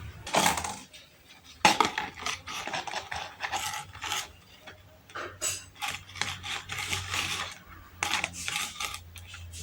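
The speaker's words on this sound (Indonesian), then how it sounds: "selanjutnya kita akan tata ke 4 gelas plastik tadi ya" Small cubes of diced carrot are dropped into four plastic cups. Each lands with a sharp tap or clatter, scattered irregularly across the span, against a quiet background.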